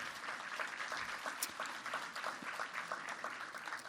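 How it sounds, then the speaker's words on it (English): Audience at a morning business networking event applauds, a steady patter of clapping from many hands throughout, heard at a distance and fairly faint. "Let's give Commander Jackson another round of applause"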